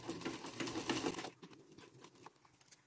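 A sewing machine stitches a dish towel, running in a quick close whir for about a second before slowing and stopping for the backstitch, then faint scattered handling taps, quiet and with no talking.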